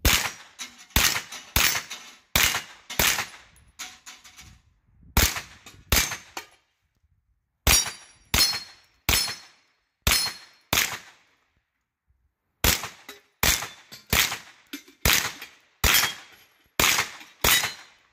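Shots from a Hi-Point 995TS carbine fired outdoors, a series of about twenty loud, sharp reports in quick bursts of several rounds, separated by short pauses and one longer gap.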